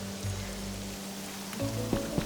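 Steady broadband rain hiss from the video game Pokemon Pokopia, falling in a town, with a faint low tone and a few soft game sounds near the end, no talking.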